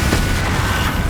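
Confringo blasting spell explosion in Hogwarts Legacy, a single loud, booming burst with a heavy low rumble filling the whole brief moment.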